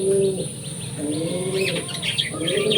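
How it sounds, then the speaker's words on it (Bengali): Pigeons, including white ones, coo nearby in soft repeated low calls, with a few chirps and light wing flutters, against a quiet rural background. "আর এই দেখো কবুতর"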